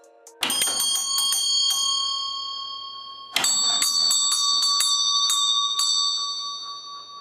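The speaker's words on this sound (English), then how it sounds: "They basically refer to a row of bells hanging on wall hooks, each labeled with the room it corresponded to" Servant bells on a butler bell board ring in two clusters of bright, rapid metallic dings with long ringing tails, close and loud with no voices.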